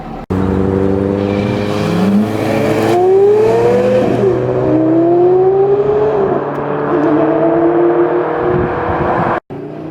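Porsche Carrera GT engine pulling hard on a drive, loud and close, with rising pitch sweeps through several gear changes over a steady roar before a brief cutoff near the end.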